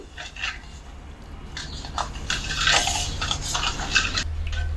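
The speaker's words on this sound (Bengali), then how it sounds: "চিনি আর নুন দিয়ে দুধের মধ্যে খুব ভালোভাবে মিক্সড করা হয়ে গেছে" Sugar and salt stirred into milk in a bowl, giving a steady run of soft scraping and clinking from a spoon, fairly close and continuous throughout, without any speech.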